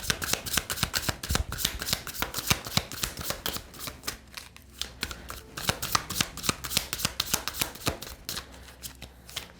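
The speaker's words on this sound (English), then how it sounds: "Oh my God, they're amazing to shuffle with." Tarot cards being shuffled by hand, a steady run of crisp riffling slaps and rustles repeating quickly and close up, with no talking.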